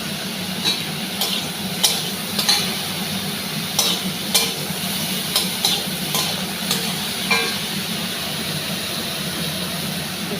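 Eggplant fries with onions in a little oil in a pan, making a constant sizzle over a low steady hum, with occasional clicks and scrapes of stirring.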